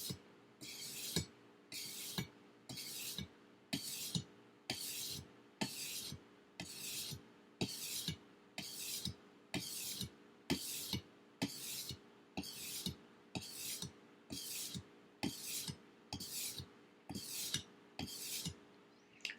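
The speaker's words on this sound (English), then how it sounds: "You want to sharpen until you get a burr for the full length of the blade." A knife blade is drawn steadily across the stone of an Edge Pro sharpener, making a quiet, close rasping scrape repeated in an even rhythm of nearly twenty strokes.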